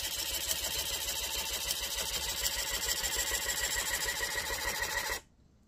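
An AK DUO tufting gun runs on a loop pile setting, a loud and steady mechanical buzz close by for about five seconds that then cuts off abruptly to near silence.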